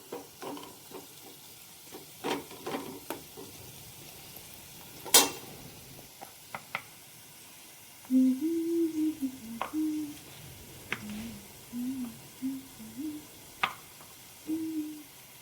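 Onion and spices fry in a pan for a quick village-style dried-fish dish, with soft sizzling under irregular stirring scrapes and clinks, some sharp taps and short squeaky utensil scrapes.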